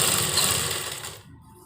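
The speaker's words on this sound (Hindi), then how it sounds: "ये हमारा पीछे का पीस है और इन सबको बराबर लेते हुए हम सिलाई लगा देंगे" Sewing machine stitching lined trouser pocket pieces together: a rapid, even mechanical rattle running close for about a second before stopping abruptly.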